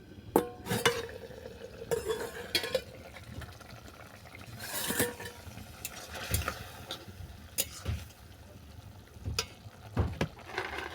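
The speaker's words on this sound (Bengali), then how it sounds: "দু মিনিট পরে আমি চাপাটা খুলে নিচ্ছি" Metal lid lifted off a cooking pot of Bengali watermelon-rind shukto, with several sharp clinks and scrapes of metal on metal scattered over a soft simmering hiss, close and fairly quiet.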